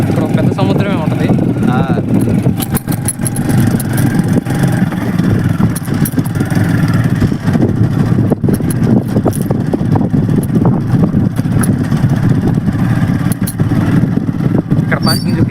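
A motorbike engine runs in a parking area at the Gangavaram waterfalls near Chamakurthy, a steady low rumble throughout the clip with people talking over it.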